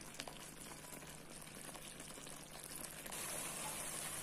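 Valluvanadan-style chicken curry simmers in a pot, with a faint, continuous low bubbling and gentle liquid burble that grows slightly louder near the end, with no voices.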